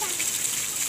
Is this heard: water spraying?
yes